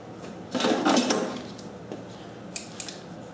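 Tubing for an air compressor is cut, giving a short rough scraping burst followed by a few faint, small clicks in a quiet room.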